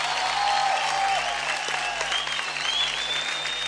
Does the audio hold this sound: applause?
yes